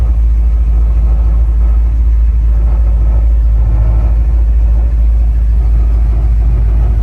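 A Ford Mustang idles at a national Mustang car show, a deep, steady low rumble from the engine running close and loud without letup, with no voices over it.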